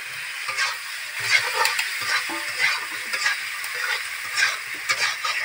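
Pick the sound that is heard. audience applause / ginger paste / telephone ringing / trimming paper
ginger paste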